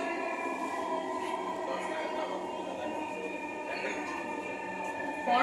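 A Dhaka MetroRail train runs toward Uttara North with a steady, droning rumble and hum inside the carriage, while an onboard announcement voice speaks over it.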